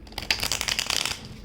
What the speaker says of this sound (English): I'm just going to shuffle it one bit.